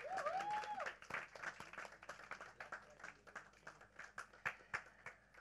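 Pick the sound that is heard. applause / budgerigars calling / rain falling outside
applause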